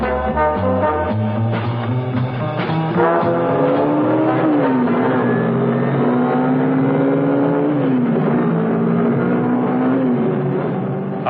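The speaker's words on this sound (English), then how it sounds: "There was no traffic about, luckily, and the car responded like a rocket." A car pulls away along an empty open road at night, its loud engine running continuously with the pitch climbing and shifting through gear changes as it builds speed, with no voices.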